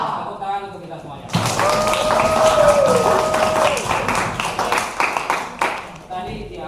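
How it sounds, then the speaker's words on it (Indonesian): An audience applauds at a community guidance session on responsible social media use in Jakarta, a dense burst of clapping rising suddenly and filling several seconds before thinning out, with voices and a tonal sound mixed in. "Tepuk tangan untuk kita semuanya"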